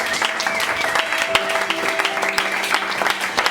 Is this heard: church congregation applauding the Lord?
yes